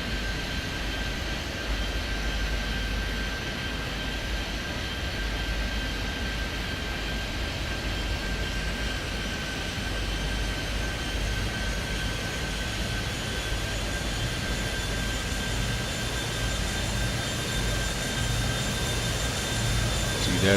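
A jet taking off from a runway in Airport Madness 3D, heard as a steady, continuous engine roar with a high whine that holds throughout, moderately loud and unbroken.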